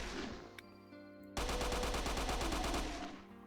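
Open-bolt chain gun in the Innawoods mod for Doom fires a steady rapid burst, each shot a sharp close crack in even rhythm. A few brief clicks come first, and the burst trails off at the end.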